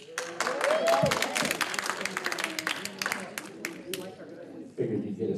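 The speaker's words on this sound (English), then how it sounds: "Figured you'd get a smattering of applause for that anyways." Brief smattering of applause at a federation board meeting, scattered claps from a small group in a room, mixed with murmuring voices, fading out before a speaker resumes.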